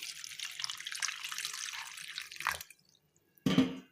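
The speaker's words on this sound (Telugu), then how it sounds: "ఇందులో వాటర్ పోయాలి." Water is poured onto tamarind in a bowl, a steady splashing stream lasting a few seconds before stopping, followed by one short splash after a pause.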